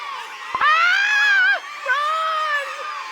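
Screaming in the Cookie Run Kingdom game: a loud, high, wavering cry that breaks off, followed by a second drawn-out wail, close and clear against a silent background.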